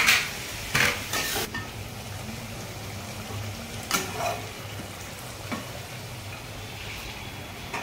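Mutton curry masala frying in a pan as water is poured in, with steady sizzling and a few louder bursts and stirring scrapes near the start and around the four-second mark, no talk.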